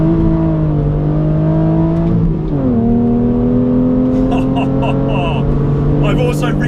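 A BMW Z4 at full effort on a circuit track day, its engine droning loud and steady near the microphone, with pitch sweeping up and down through gear changes and revs rising again toward the end.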